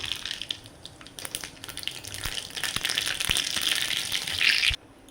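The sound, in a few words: mustard seeds spluttering in hot groundnut oil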